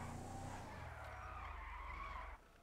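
A car slides and skids across snowy road in GTA, a loud, sustained tire-and-engine roar with a falling low drone that cuts off abruptly near the end.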